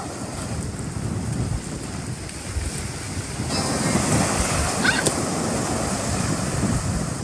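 Ocean waves breaking on a beach where skimboarding takes place, a continuous loud surf roar with wind buffeting the microphone and a swell in intensity partway through, no voices.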